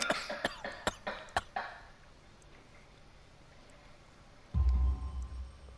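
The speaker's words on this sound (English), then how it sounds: "You have a severe cough." A man's harsh, repeated coughing fit in the Sherlock Holmes: The Devil's Daughter video game, a rapid series of about eight close, loud barks that trail off into quiet before a brief low rumble.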